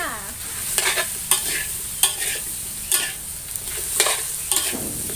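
A spatula stirs sponge gourd in a hot pan, scraping in distinct strokes about every second over a constant background sizzle of frying, close and clear with no talking.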